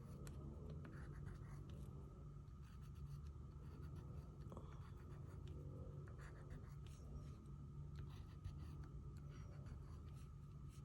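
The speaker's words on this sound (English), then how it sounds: "maybe I'm gonna draw some hearts with pink crayon" Pink crayon rubs and scratches faintly across the paper as small hearts are drawn on the nose of a colourful animal portrait, a low continuous texture with no voices.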